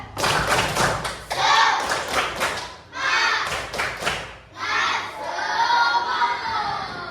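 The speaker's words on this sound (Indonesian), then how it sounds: "Coba, tepuk semangat." A primary class, 5B, claps a rhythmic 'tepuk semangat' pattern in an Indonesian classroom: bursts of sharp group claps in quick patterned clusters, with children's voices chanting between and over them.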